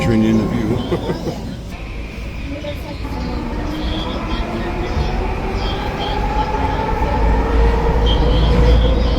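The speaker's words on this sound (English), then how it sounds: "Skytrain in the view." A SkyTrain metro train rumbles and hums through a station nearby, its motor whine rising and shifting as it moves along the platform.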